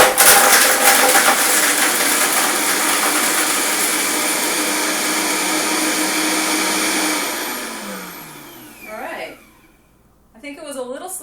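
A Vitamix blender crushing ice, a loud steady whir and grinding roar that holds for about eight seconds, then winds down and rattles to a stop.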